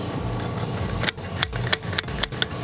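A Keelat nail gun fires nails in several sharp, close clicks, roughly five snaps spaced through a steady background hum.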